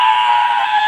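A Godzilla roar: a shrill, sustained screech, loud and steady for just under a second, with no talking over it.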